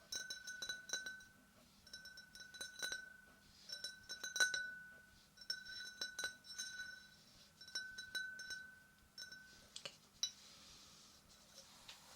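A drinking glass, unpacked from a loot crate, gives off bright repeated clinks and taps. They come in scattered bursts throughout, close and delicate against a quiet background.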